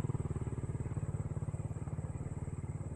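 A Honda 300ex four-wheeler ATV engine putters steadily as it rides outdoors, with a fast, even low-pitched pulse that holds at a constant idle-like speed throughout, fairly close and alone.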